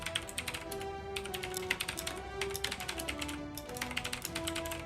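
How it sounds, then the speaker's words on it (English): Rapid, irregular clicks of typing on a computer keyboard during a live esports showmatch broadcast, a close, dense patter of keystrokes with brief pauses and no talk. "Make sure we're typing in the group chat"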